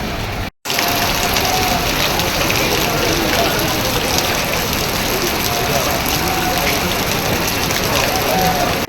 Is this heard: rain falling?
yes